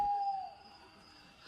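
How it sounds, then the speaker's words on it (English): An owl gives one drawn-out, faint hoot in a quiet setting, with a soft noise rising at the end. "Now it transforms into her owl."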